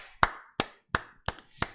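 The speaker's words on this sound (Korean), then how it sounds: "하나님께 영광의 박수 돌려드리겠습니다" A church congregation claps in unison during a Full Gospel Sunday worship service. Five sharp, evenly spaced claps ring out close and clear, with short silences between them.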